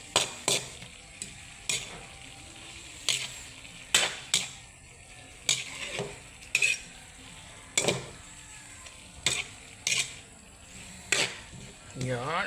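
Vegetables and fresh mushrooms stir-fried in a pan for an oyster-sauce dish, with a steady sizzle broken by repeated sharp clanks and scrapes of a utensil against the pan, close and fairly loud.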